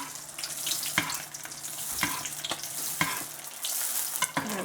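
An egg fries in hot oil while a spoon repeatedly scoops and bastes oil over it, giving steady sizzling broken by regular scraping and splashing strokes about once a second.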